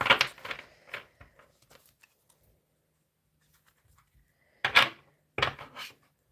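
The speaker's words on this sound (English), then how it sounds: "It's a really big deck, so I've got to shuffle it like this." Cards from a large tarot deck are shuffled in short riffling bursts: a cluster at the start, a pause of near silence, then two more bursts near the end, close and alone.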